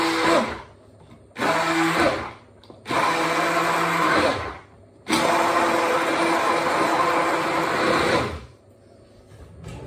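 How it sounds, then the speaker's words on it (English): Blender whirring through flaked vegan ingredients for a moussaka, running in four loud bursts separated by short pauses, close and alone with no talk. "so I'm just going to blend this up quickly."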